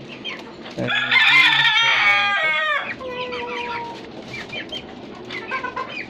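A rooster crows loudly and close by, followed by a flock of caged native chickens and newly hatched chicks clucking and peeping in a busy, steady chatter.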